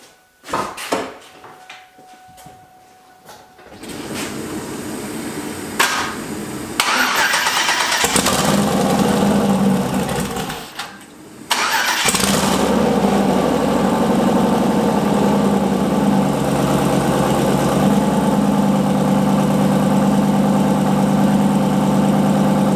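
Turbocharged LS car engine cranks over after a few quiet clicks, catches and fires up, then settles into a loud, steady idle with a brief dip partway through.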